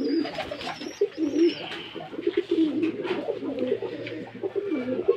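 Pigeons bought in a pair for breeding coo repeatedly in low, throaty bursts, close and fairly loud, with faint chirps and hum in the background.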